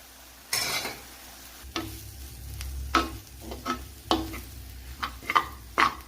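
Grated coconut with chili powder and turmeric sizzling gently in a pan, broken by a series of spoon scrapes and taps against the metal at irregular intervals.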